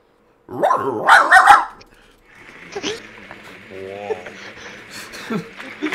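A voice imitates a dog barking in a few loud, gruff bursts over online game chat, followed by other players talking with a sustained tonal game sound underneath.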